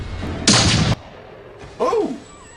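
A gunshot in Kamen Rider G: a sharp, loud burst lasting about half a second, followed by a quieter stretch and then a short vocal cry.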